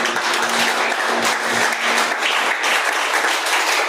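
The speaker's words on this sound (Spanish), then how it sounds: "denle un aplauso al Señor, le va a regalar un aplauso" A church congregation applauds, giving a steady, dense wash of clapping that holds at an even level from start to finish, with no voices heard over it.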